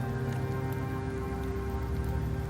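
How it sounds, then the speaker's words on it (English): Steady, dense rainfall pours over the Septimont setting in Wuthering Waves, a constant even hiss of drops on surfaces with no pauses, loud and close throughout. "The rains in Septimont never seem eager to leave this season."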